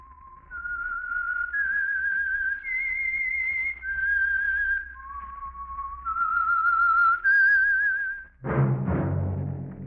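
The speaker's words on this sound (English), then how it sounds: "That whistle is your signal" A clear, melodic whistled theme from the 1946 radio drama The Whistler glides through a short series of notes, warbling with vibrato, then a louder burst of music begins.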